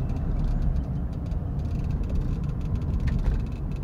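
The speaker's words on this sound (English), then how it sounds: "Take it for a fast drive around the block." A 1985 Jaguar XJ6 sedan on a fast drive around the block, heard as a steady, low broadband road and engine rumble that stays even throughout, with no voices.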